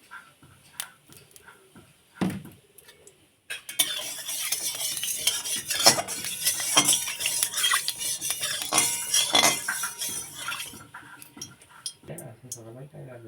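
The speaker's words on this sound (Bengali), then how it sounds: "মাছগুলো ভালো করে তেলে ভেজে নেব।" Small fish frying in mustard oil in a wok: a few scattered clicks and thuds, then a sudden burst of crackling sizzle with repeated spatula scrapes and clinks that dies away near the end.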